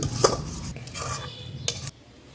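A spice mix is stirred and fried in a pan, with a spoon scraping and clinking against the metal in short, irregular strokes over a faint sizzle, close up and alone.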